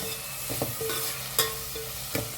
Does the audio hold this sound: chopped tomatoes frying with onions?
yes